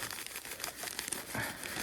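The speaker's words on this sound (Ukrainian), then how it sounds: "Мабуть, поки висиплю пів пакета." A plastic bag of cheap groundbait for carp fishing on a pond is torn open and poured out, giving steady close crinkling and rustling with a heavier pouring rush near the end, without any talk.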